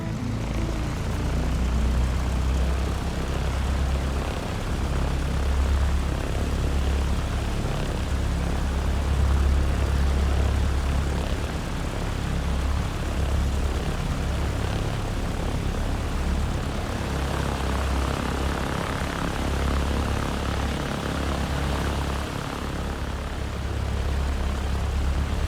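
A Piper Tomahawk's propeller engine in a flight simulator, starting up and settling into a steady, close, throbbing low drone that runs loud and unbroken, with no voices over it.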